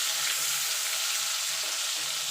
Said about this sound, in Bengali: টমেটো একটুখানি নাড়াচাড়া করে নেব।